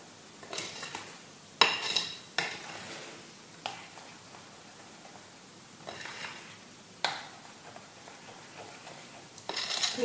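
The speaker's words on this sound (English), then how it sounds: "want to stir it up really well, make sure you have no lumps in there" Flatbread dough mixture of flour stirred hard in a bowl, with a series of close scraping and clinking strokes against the bowl coming in uneven bursts, no talking.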